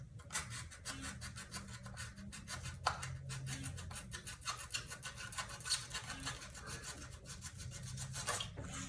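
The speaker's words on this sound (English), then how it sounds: "You can take your blade and slice it off." A blade slices through a foam core shoe sole, giving a steady, close rasping and rubbing texture of repeated short strokes that carries on throughout with no talk.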